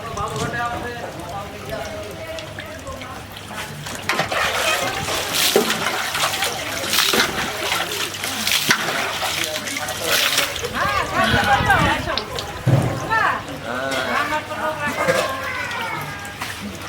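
Water is poured and splashed over a person bathing on a cold day, with bursts of splashing and trickling, often under a speaking voice.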